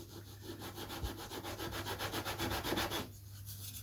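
Wood being sanded flat for a Da Vinci flyer model's wing and tail, a steady rhythmic rubbing scrape of back-and-forth strokes, close and continuous, then stopping near the end.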